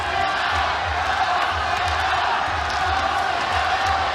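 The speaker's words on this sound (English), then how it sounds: "This crowd, which is very uncharacteristic in Japan, are cheering for both Hasegawa and Aung San." Arena crowd at a Japanese MMA fight roars and cheers continuously for both fighters, a dense sustained wall of noise with no breaks.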